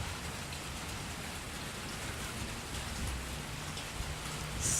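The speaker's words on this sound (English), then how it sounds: "Look, you could hear it rain." Steady rain falls outdoors, a constant dense patter on surfaces that continues unbroken at an even level throughout.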